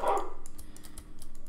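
A dog barks once in the video game Piggy, then faint rhythmic thumps and clicks follow, with no one speaking.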